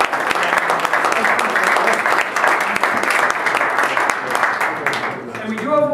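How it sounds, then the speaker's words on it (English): A Rotary Club of Worcester audience gives steady, dense applause at a luncheon talk, loud and continuous throughout, fading slightly near the end. "round of applause for that"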